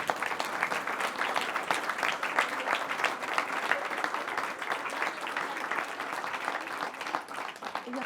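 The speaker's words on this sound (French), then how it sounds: "tout le monde voit et puisse applaudir le travail que vous avez effectué" An audience applauds children at a mayor's New Year wishes ceremony in Penchard, with warm, steady clapping from a moderate crowd that fades slightly near the end.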